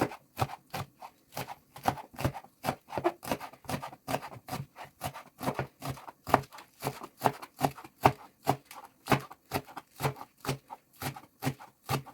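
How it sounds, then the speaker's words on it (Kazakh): Rapid, even knife chops on a cutting board as green onions are cut, sharp repeated taps in a steady rhythm, close and clear with no talking. "Осылай көк пиязымызды турап аламыз."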